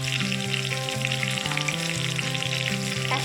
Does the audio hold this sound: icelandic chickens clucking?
no